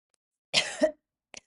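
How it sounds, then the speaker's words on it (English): A single close throat clearing, a short rough cough-like rasp, followed by a tiny faint sound, otherwise quiet. "Clear your throat like me if you need to."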